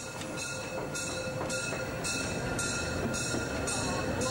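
Molli narrow-gauge steam locomotive 99 2324, a new-build from the Meiningen steam works in service since 2009, hauls a century-old train of historic passenger coaches from 1911 to 1926, its regular rhythmic chuffs and rail clatter repeating steadily and close.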